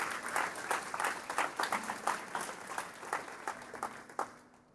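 Congregation at an evening church service clapping for the Lord, a lively burst of many hands with distinct rhythmic claps, fading gradually toward the end.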